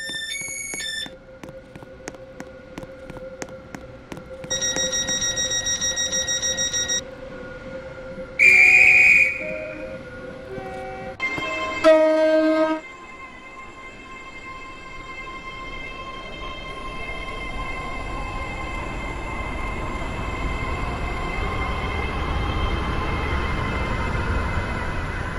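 A Roblox Stepford County Railway train rolls into a platform in the game, with a loud whistle blast and chime tones early on, then a long rising rumble of wheels and motor as it pulls in, no talking.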